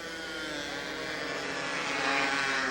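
Dirt-track race car engines roar through a qualifying heat on a 1987 oval, a sustained loud blare that builds slightly as the cars accelerate off the turn, with no voice heard.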